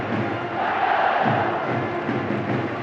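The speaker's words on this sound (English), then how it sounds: "But this crowd that was stunned is finding its voice now" A rugby stadium crowd at a Leeds versus Toulouse Challenge Cup semi-final, a broad swelling roar of cheering and shouting that rises and holds, distant and massed with no clear talk.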